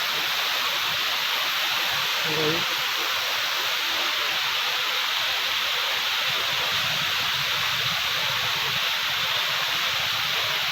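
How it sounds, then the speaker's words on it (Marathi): A river swollen by heavy rain pours over a small dam below farm fields at night, a dense, constant roaring rush that holds steady throughout with no voices. "आमच्या शेताच्या खालून एक नदी आहे तर नदी ती बंधारा आहे का बंधाराला पाणी होता"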